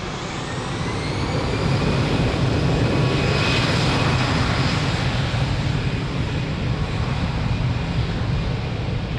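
A jet airliner roars down the runway on takeoff at Lisbon Airport, a loud, sustained broadband engine rush that builds and holds for several seconds, heard alone without voices.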